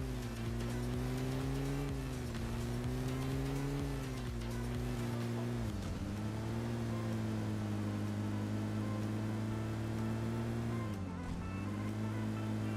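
A car engine drones steadily in the video game PUBG, driving toward Rozhok, a loud continuous hum that dips briefly in pitch around six and eleven seconds, with no talk over it.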